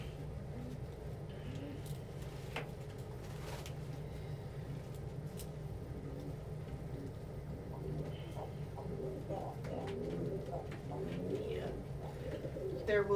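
Pigeons cooing in a loft, a steady low murmur of overlapping coos with occasional chirps, moderately near amid constant background noise and faint distant traffic.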